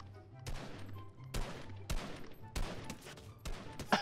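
Gunfire in Fortnite on a high-ping server, several sharp shots in irregular bursts about half a second to a second apart, loud and close, with no voice over them.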